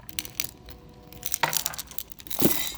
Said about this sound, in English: Oh, that looks like it's mostly filled with just quality check glass.